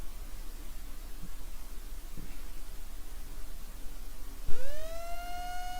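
Under a steady hiss, a loud weather radar alert tone abruptly sounds near the end during a severe storm warning, a single rising then sustained beep.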